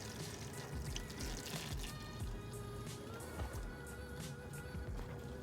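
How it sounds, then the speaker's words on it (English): Engine oil draining out of the oil pan of a Chevy Cruze 1.4T during an oil change, a steady liquid trickle with soft irregular drips, close and continuous under faint background hum. "it should drip for about 5-10 minutes, I think, until it's all the way out and like stop dripping"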